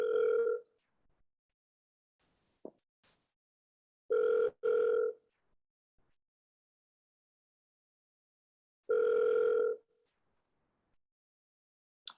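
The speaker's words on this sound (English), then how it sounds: "So let it ring 5 times and then hang up and call them again." An outgoing phone call rings back at the caller three times, each a clear electronic tone burst of about a second with long silent gaps between them.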